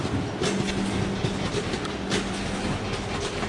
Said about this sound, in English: It is chugging right along now.